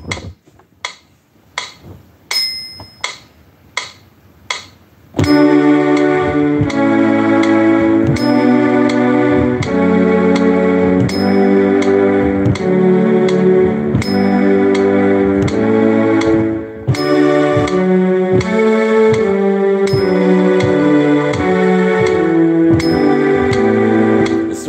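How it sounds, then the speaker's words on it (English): Piano arrangement of Pachelbel's Canon in D, opening with a few sparse, separate notes, then settling into a steady, full, sustained passage of chords and melody that plays on with little pause. "This is a piano arrangement."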